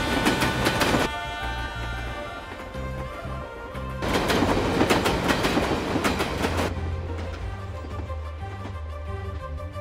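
A train rumbles along the rails with a heavy, rhythmic clatter that surges louder in two long stretches, mixed with tonal swells that sound like a musical score.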